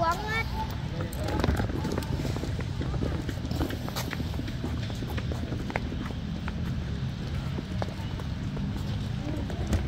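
A small 13-year-old Shetland pony clip-clops along on a children's outing in Bedugul, Bali, its hooves making a steady patter under ongoing talk and background chatter.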